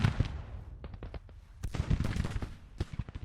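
Civil War musket and rifle fire crackles in the Grand Tactician strategy game, a rapid irregular volley of sharp gunshots with a few louder nearby bangs over a low battlefield rumble.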